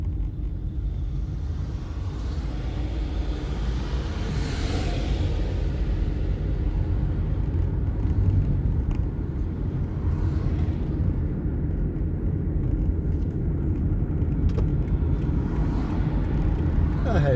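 A car drives through town traffic in Halifax, West Yorkshire, heading from the railway station toward Queens Road, with a steady low engine and road rumble throughout and a voice talking over it.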